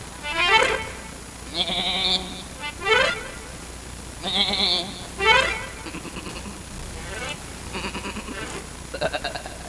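A voice imitates a goat's bleat in a wavering, quavering sung line, several bleating phrases in a row during a village Ramlila stage performance, fairly close and clear against a faint background.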